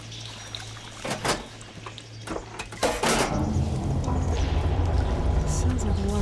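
In Horizon Forbidden West, water starts flowing after a valve is switched, rising into a steady rushing pour that continues under a man's speech following a few clanks and splashes.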